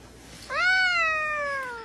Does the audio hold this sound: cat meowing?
yes